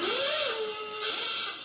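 An alarm rings loud and steady for under two seconds, a sustained electronic tone with a wavering pitch and no talk over it.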